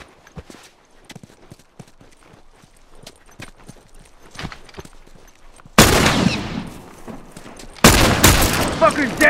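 Gunfire rings out in a first-person video game match during a headshots-only one-on-one. Scattered light clicks and steps come first, then two loud, sharp rifle blasts with ringing tails.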